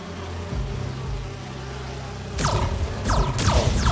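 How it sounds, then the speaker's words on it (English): Electronic buzzing of holographic bee wolves in the Spider-Man 2 video game, a soft insect-like hum that swells into louder whooshing, sweeping bursts partway through, with no voices. "Do you see those little holographic bee wolves?"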